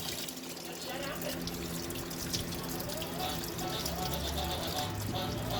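Coolant drains from a 2007 Jeep Commander radiator hose into a catch pan, a steady trickling, splashing flow, close and continuous, with a voice talking faintly over it.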